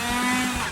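A homemade mini angle grinder built from a 775 DC motor in PVC pipe, run on 12V batteries, whines steadily at close range with a strong sustained tone for under a second, with no talk.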